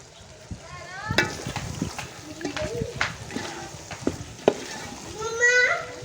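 Chopped green chillies added to a simmering ridge gourd curry and stirred, soft sizzling with spoon scrapes and knocks against the pot, close, under someone talking.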